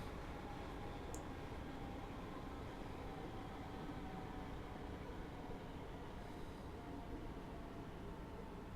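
A Class 313 electric train in Train Simulator coasts with power cut as a step 1 brake application begins, leaving only a faint, even rolling rumble and hiss with one brief chirp.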